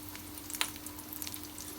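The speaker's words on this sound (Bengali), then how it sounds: "ভাজা করছি আর সিঙ্গারা সমোসা ভাজি করছি।" Singara (samosas) frying in hot oil for an afternoon snack, a steady soft sizzle with faint crackles and a few light stirring clinks, fairly quiet and continuous with no voices.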